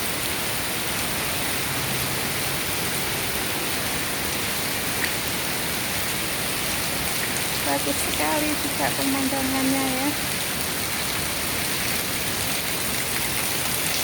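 Heavy rain pours steadily over a park in Hong Kong, a dense, even hiss close around the listener throughout, with someone speaking briefly over it partway through.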